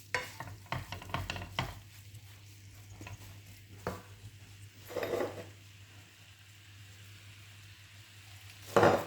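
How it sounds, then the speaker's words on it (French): Courgettes and onions sizzle faintly in a pan while a spoon stirs them, with soft scraping and clinking taps throughout and a louder scrape near the end, no talking. "Maintenant, je vais ajouter les courgettes."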